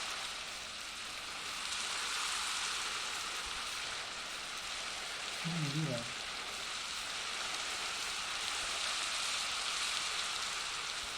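Constant soft patter of rain falling in the game Minecraft runs throughout, with a single short spoken word from a man near the middle.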